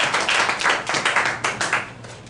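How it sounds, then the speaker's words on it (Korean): Audience applause at a church audio seminar, a short burst of close, fairly loud clapping from a modest group, individual claps distinct in an uneven rhythm that thins out at the end. "박수 한번 쳐주십시오"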